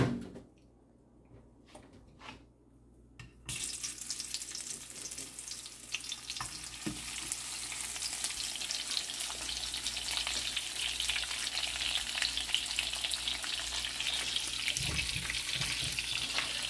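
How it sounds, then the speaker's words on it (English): Dried salted fish (bulad) frying in a pan in a home kitchen, a steady close sizzle and crackle of hot oil that rises suddenly after a few seconds of quiet handling and keeps going without a break, with no talk. "let's start frying our bulad or toyo."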